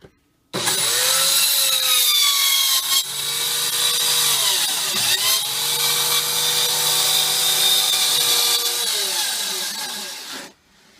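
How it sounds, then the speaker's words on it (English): A saw cuts a 1-inch strip off wood while a convection microwave oven is being fitted into a Travato 59G camper van. It makes a loud, continuous, whining cut lasting about ten seconds, with shifting pitch and a brief dip midway. "with the saw. Get the light on the line."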